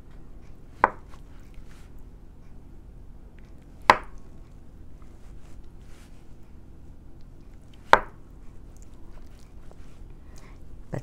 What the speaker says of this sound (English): I cut them in a bite size like this